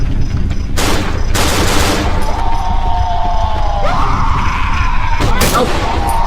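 Shotgun fire in the horror video game Cry of Fear, several loud blasts roughly a second or more apart over a dense, constant game soundscape with ringing tones in between.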